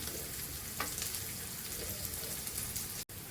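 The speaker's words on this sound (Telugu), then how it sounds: "ఇప్పుడు పచ్చిమిరపకాయ ముక్కలు వేస్తున్నాము." Green chili pieces frying in a pan alongside onion pieces, a loud, steady crackling sizzle close by with faint stirring, ending in a brief cut.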